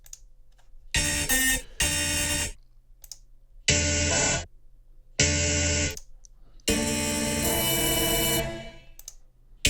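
Short bursts of a bright synth lead through a very short impulse response convolution reverb, each cut off abruptly with a very brief, tight tail, separated by silence.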